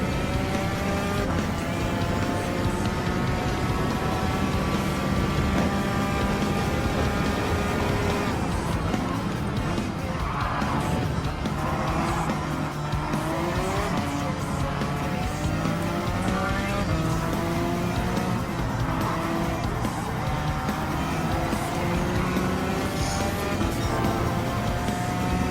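In Gran Turismo 7 at Watkins Glen, a race car accelerates hard, its engine note climbing through the gears in a loud, sustained roar that fills the whole stretch, with a voice talking over it at times.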